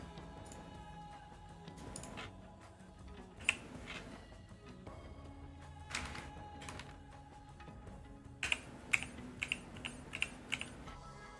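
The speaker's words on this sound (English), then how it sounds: "So that's why I am typing." Quiet clicking of computer keyboard keys in irregular bursts, with sparse taps early and a quicker run of sharper keystrokes near the end, close and alone in a calm room.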